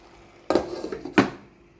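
Lid placed on a cooking pot of carrots and aubergine, two sharp metallic clanks about two-thirds of a second apart with a brief rattle between them, close and clear, no voices.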